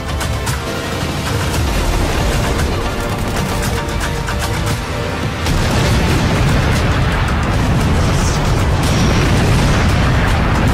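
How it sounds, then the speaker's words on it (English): A railgun firing a powerful energy beam in the video game Just Cause 4: a loud, dense, continuous roar of blasts and explosions with rapid crackling bursts, growing heavier and more booming in the second half. "the railgun can shoot a powerful beam of energy"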